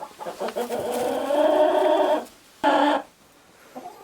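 Hens clucking in a farm coop, a run of close, loud squawking calls followed by a short pause and one more sharp cluck, with no talk.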